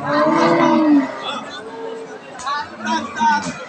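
A Red Friesian cow at a cattle market gives a loud, drawn-out moo up close, followed by shorter lowing calls amid a busy crowd's background chatter.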